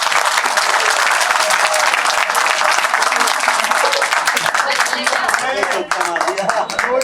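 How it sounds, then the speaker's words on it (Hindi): Audience applause at an event with a public figure, a dense, loud, sustained roar of clapping from a large crowd filling the whole stretch, with a voice faintly mixed in. "ताली इतनी जोर से बजाइए"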